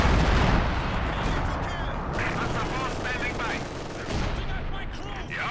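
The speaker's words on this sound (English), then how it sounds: "the Priest going for some British base howitzer shots" Priest self-propelled howitzer shelling a British base in Company of Heroes 2, with loud booming artillery blasts and rolling gunfire layered over dense battle noise, and a voice talking over part of it.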